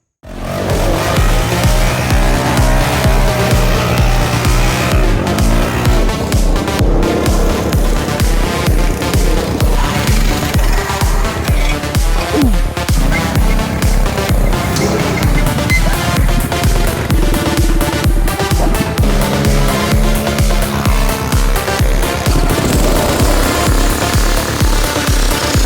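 A homemade jalopy go-kart with a freshly mounted engine and a lopsided front end runs loudly and steadily throughout, its motor droning and revving close by with rough mechanical clatter and no talk.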